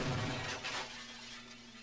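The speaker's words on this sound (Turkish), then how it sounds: "Şu camı kıracağız herhalde." A glass window shatters in the video game Half-Life: Opposing Force, one sharp close crash of breaking glass that trails off into a steady low hum.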